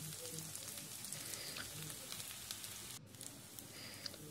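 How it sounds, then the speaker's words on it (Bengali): Onions frying on a high flame, a steady close hiss of sizzling oil with faint crackles throughout and a brief break near the end. "পেঁয়াজটাকে খুব ভালোভাবে আমি ভেজে নেব। একদম হাই ফ্লেম করে ভাজবো।"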